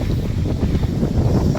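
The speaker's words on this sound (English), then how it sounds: "Look at how windy it is." Strong, cold wind roars outdoors on a cloudy day, buffeting the microphone with a dense, steady low rumble and no talk.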